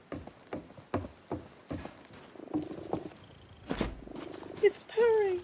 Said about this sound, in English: It's purring.